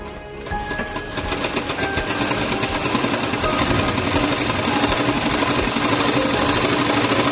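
A sewing machine stitches fabric for a 3D face mask in one continuous, steady run, its fast mechanical whir and rapid needle rattle loud and close throughout.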